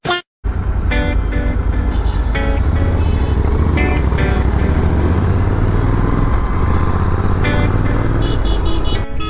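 Motorcycles, an Interceptor 650 and a Himalayan 452, riding with a loud continuous engine drone and wind rumble, close to the microphone, with faint tonal whine and no talking.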